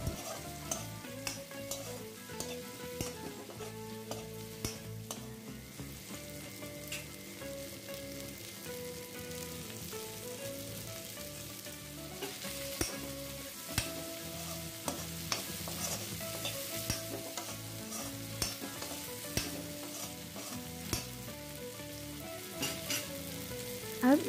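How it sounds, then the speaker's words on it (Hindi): Chopped okra fries in a pan for dahi bhindi, a continuous close sizzle with repeated scraping and clinking of stirring throughout, no voices. "कटी हुई भिंडी डालना है। भिंडी डालने के बाद इसे अच्छे से मिला लीजिए।"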